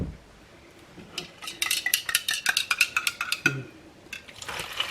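A metal utensil stirs broth in a bowl for slow-cooker Salisbury steak meatballs, giving a quick run of close, bright clinks and scrapes against the dish, then a few softer taps at the end.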